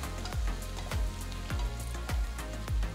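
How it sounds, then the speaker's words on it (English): Chopped onion and fresh red chillies sautéing in a pan for veg ramen stir fry noodles, a soft steady sizzle with regular spatula strokes about every half second, close and unaccompanied by talk. "Add 1 small onion chopped. So these are fresh red chillies, not the dried ones. Saute for about a minute."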